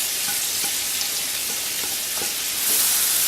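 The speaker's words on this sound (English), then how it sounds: "I'm going to get the mushrooms and onions going." Mushrooms and onions fry in butter and olive oil with a close, dense, steady hiss that swells slightly louder near the end.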